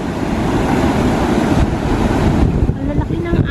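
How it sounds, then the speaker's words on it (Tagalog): Large ocean waves at Coolangatta Beach, a loud rushing surf roar buffeted by wind noise on the microphone, with a voice speaking briefly over it. "Ang lalaki ng alon ngayon."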